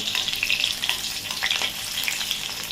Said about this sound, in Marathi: सतत अशा हलवायच्या म्हणजे सगळ्या बाजूने छान अशा तळतात